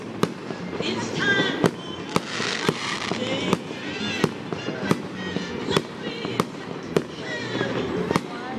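Outdoor fireworks show at l'Île Chambod, with sharp bangs cracking every half second or so over a crackling, fizzing wash, as people talk and music plays underneath.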